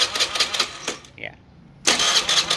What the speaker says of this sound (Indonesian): Saya akan starter ya. Saya akan nyalakan.